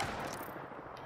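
A brief burst of rapid gunfire in the battle royale shooter Apex Legends, steady and fairly close over just about a second.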